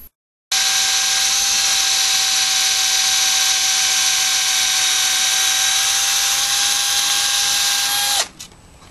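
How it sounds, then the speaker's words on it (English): A power drill bores a hole in a car panel for a switch and LED, a loud steady high-pitched whine running continuously for about eight seconds after a brief silence, then cutting off abruptly. "Next up, we'll drill a hole for the switch and LED."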